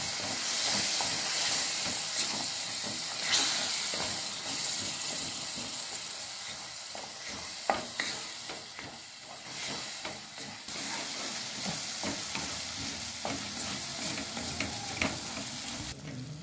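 Spiced masala gravy frying in ghee in a pan while being stirred, a steady close hiss and sizzle with occasional scraping clicks, no voices.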